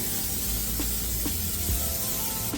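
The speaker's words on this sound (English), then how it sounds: "I'm going to spray my pan" A steady hiss of non-stick cooking spray onto a baking pan runs throughout, close and fairly quiet, with a couple of faint knocks underneath.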